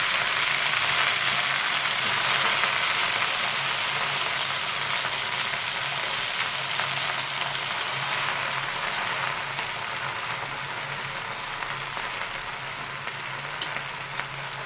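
Gongura leaves fry in hot oil with red chilli for a preserved pickle, giving a continuous, even sizzle that stays strong and gently fades, with no voices over it.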